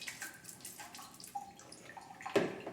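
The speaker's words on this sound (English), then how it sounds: "you're going to want to rinse the probe again" Distilled water rinses a measurement probe in quiet, faint splashes and trickles, with a brief louder splash near the end and no talking.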